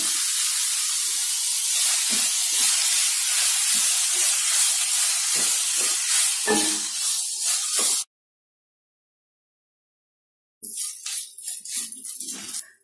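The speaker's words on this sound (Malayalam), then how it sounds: "ഈ സവാള നല്ലോണം ഒന്ന് വഴറ്റിയെടുക്കണം. ഇതിലേക്ക് കുറച്ച് കറിവേപ്പിലയോടെ ചേർത്ത് കൊടുക്കാം." Onions with curry leaves sizzle in hot oil as they sauté for a Kerala-style egg roast, a loud steady hiss with crackling bursts that cuts out completely for a couple of seconds, then resumes just as strongly.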